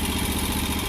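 A tractor engine runs during yearly brush mowing, a steady, loud, close mechanical drone with a rough, rattling texture and no pauses.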